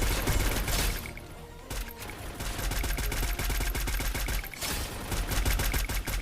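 Rapid bursts of gunfire, like a machine-gun fusillade, sound in an action scene, dense and loud with repeated sharp cracks running almost continuously and only a brief lull near the middle.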